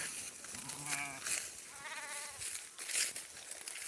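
Two or three wavering sheep bleats, fairly close, from a flock heading to water, over a constant outdoor hiss and rustle.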